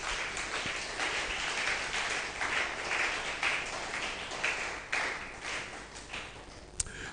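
A church congregation claps and cheers to praise the Lord at a Sunday service, the applause steady and moderately distant, with a few sharp claps standing out near the end.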